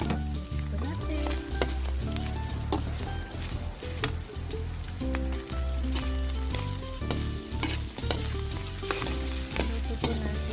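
Pork lung bopis with carrot fries in a pan, steady loud sizzling with repeated scraping and clanking of a utensil stirring throughout, no voices heard.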